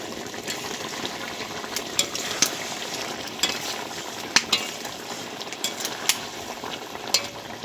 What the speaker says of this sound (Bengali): দেখো কি সুন্দর ফুটছে, কি সুন্দর দেখাচ্ছে